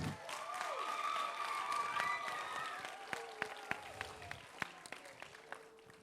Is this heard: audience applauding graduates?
yes